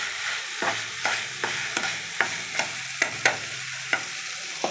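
Spring onions fry in a pan while a utensil stirs them, giving a steady sizzle broken by about a dozen sharp scraping clinks at an uneven rhythm, close and clear with no talking.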